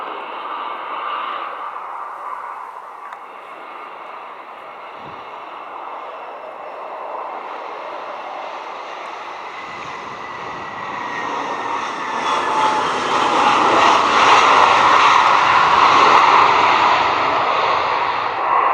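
An Air Canada airliner on landing approach to runway 07 at Montego Bay, Jamaica, its engine roar and whine building steadily from a distant drone to a loud, broad rush over about nineteen seconds.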